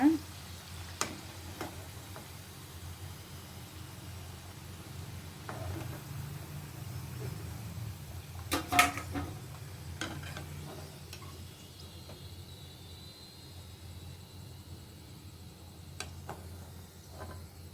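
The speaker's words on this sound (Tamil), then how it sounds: "இதே மாதிரி மீதி இருக்க எல்லாத்தையும் பொரிச்சு எடுத்துக்கலாம்." Kachori deep-frying in hot oil gives a soft, steady sizzle and bubbling throughout, with occasional sharp clicks and clatters of a utensil against the pan.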